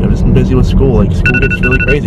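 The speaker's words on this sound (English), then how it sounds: "That is my alarm," A phone alarm rings in repeating electronic bursts over continuous close talking, the tones starting partway through and pulsing twice.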